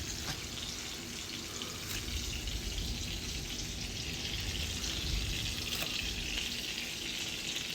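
Burger patties fry in a pan with a steady, close crackling sizzle that runs unbroken throughout, the loudness holding level with no talking.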